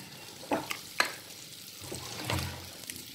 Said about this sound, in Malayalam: ഇനി ഞാൻ നന്നായിട്ടൊന്ന് മിക്സ് ചെയ്ത് കൊടുക്കാം.